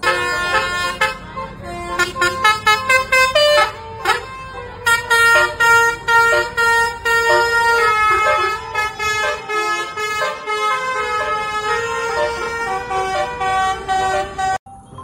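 Harapan Jaya bus horn sounding a loud, multi-note musical melody, tones shifting in pulsing bursts for about fourteen seconds before stopping sharply.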